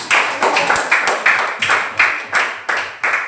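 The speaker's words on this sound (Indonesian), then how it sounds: "Tepuk tangan untuk Logender" A class claps together for a student, steady rhythmic claps in bursts of roughly three per second, loud and close, with no talking.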